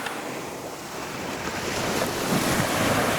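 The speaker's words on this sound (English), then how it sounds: "No, the waves won't take you." Ocean waves wash onto a cold Norwegian shore in Lofoten, a steady close rush of surf with wind buffeting the microphone and swelling slightly louder toward the end.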